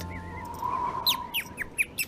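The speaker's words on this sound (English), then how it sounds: "And I know what sound that is. Do you? It's Brown Bird" A bird in an outdoor setting gives a wavering whistled note followed by a run of quick, sharp descending chirps, moderately close and clear.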